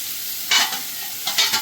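Green chillies lightly frying in a pan, a soft steady sizzle with two short louder bursts of stirring, close by and without talk.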